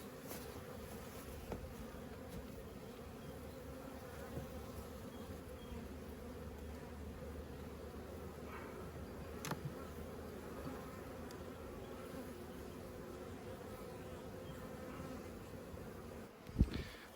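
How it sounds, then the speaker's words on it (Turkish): Honeybees hum steadily in a low, continuous drone inside a hive, quiet and close, with a brief knock near the end. "Bunlar Nisan ayında böleceğimiz arılar dostlar."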